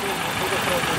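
A car at a used-car market in Barda idles with a steady low hum for a moment, half covered by people talking nearby.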